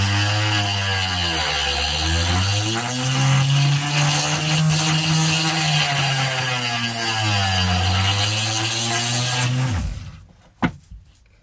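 Drill with a masonry bit grinding the grooves flat on an emery sharpening stone, a loud continuous motor drone with rough abrasive grinding whose pitch dips and rises under load before stopping abruptly, followed by a couple of knocks.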